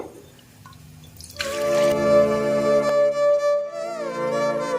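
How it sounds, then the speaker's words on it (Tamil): Pomegranate juice poured into a container for a lunch-box break drink, a steady liquid stream beginning after a quiet moment and carrying a bright, ringing resonant tone that shifts in pitch near the end. "பிரேக்கில் குடிக்கிறதுக்கு மாதுளம்பழம் ஜூஸ் ஊற்றிக்கிறேன்"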